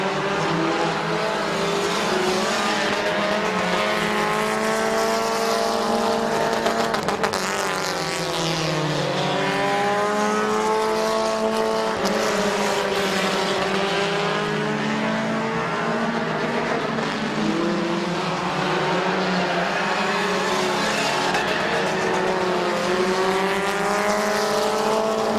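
Race cars lap Midvale Speedway in a continuous, loud engine roar with rising and falling pitch sweeps as cars pass by, several engines overlapping throughout.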